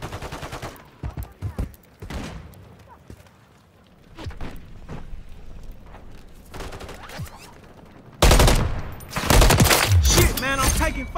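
Rapid gunfire in Call of Duty, with bursts of automatic shots and scattered single cracks, loud and close, becoming a dense heavy barrage near the end.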